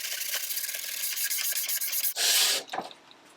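Close rasping scrape of a tool working over old cabinet window glass, steady repeated strokes building to a louder burst near the end, then quieter.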